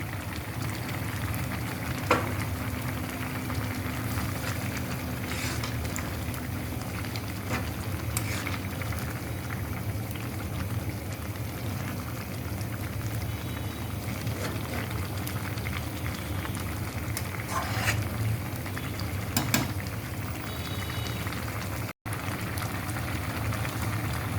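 Spinach and prawn curry simmering in a pan as the greens cook down and the liquid reduces, a steady soft bubbling and sizzling that continues throughout with occasional small clinks.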